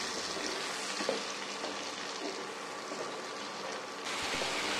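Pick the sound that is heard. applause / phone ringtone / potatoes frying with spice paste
potatoes frying with spice paste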